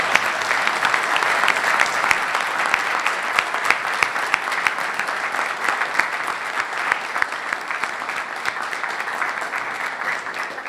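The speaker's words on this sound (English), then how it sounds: "We can applaud. We can thank our guests tonight." A sustained round of audience applause thanks guests at an evening talk on Christian responses to poverty, dense steady clapping from a large crowd throughout.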